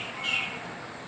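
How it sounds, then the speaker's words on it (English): A Congo peafowl calls at a zoo, giving a single short, moderately loud squawk over steady ambient background noise. "Congo peafowl"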